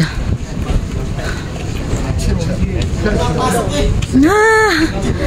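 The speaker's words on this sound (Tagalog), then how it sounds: "lakas ng hangin dito sa taas" Strong, cold wind sweeps a hilltop park in Tagaytay City, a gusty rumble buffeting the microphone while people talk over it. A short rising tone sounds near the end.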